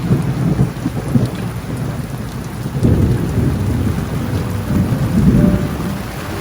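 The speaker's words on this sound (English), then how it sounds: "That thunder." Steady rain patters on a surface at an RV resort campsite while low thunder rumbles in rolling waves, close and heavy, with no voices.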